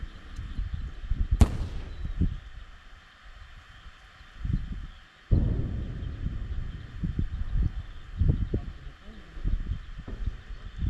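On the Bakhmut front, a bomb dropped from a drone onto infantry goes off as a sharp blast followed by a booming rumble that dies away, while crackling thuds and voices fill the rest.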